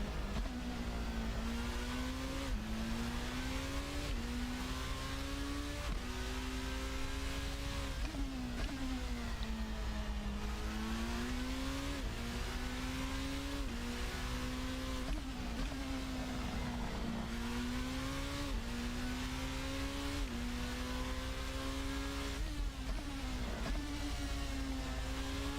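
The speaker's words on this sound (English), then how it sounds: "There's nothing like smoothly driving an open wheel car." Open-wheel formula race car engine in the Assetto Corsa racing game, a steady high-pitched drone rising through the revs and dropping at each gear change, repeating through the whole stretch.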